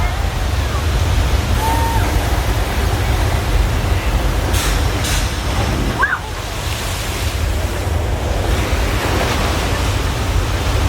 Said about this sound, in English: Flash flood, everyone!